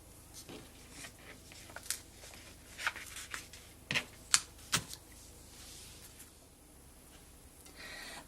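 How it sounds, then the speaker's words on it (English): Folded fabric being cut along a pinned pattern piece for a sewing project: a scattered handful of crisp, close snipping clicks and soft rustles, quiet overall, with no talking. "I am going to pin my pattern piece to my folded fabric and cut."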